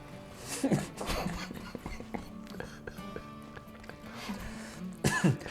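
A couple of short, sharp coughs break out close by, one early and one near the end, amid quiet murmuring and room noise.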